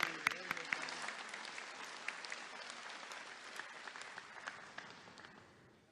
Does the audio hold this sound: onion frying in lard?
no